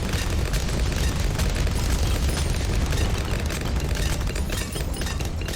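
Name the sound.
cluster bombs exploding and popping bloons in Bloons TD video game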